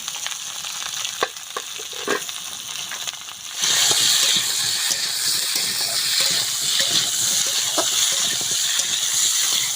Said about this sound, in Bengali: ওদিকে পেঁপে, গাজর, আলুটা ভাজা হতে থাকুক